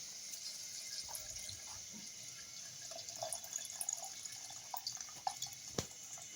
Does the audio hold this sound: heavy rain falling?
no